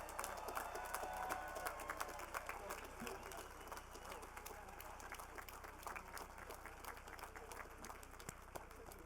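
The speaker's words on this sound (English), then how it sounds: "Let's give all our bachelor's degree recipients a big round of applause." A crowd at a 2023 School of Engineering diploma ceremony applauds bachelor's degree recipients, steady dense clapping filling a large space, with some murmured voices underneath throughout.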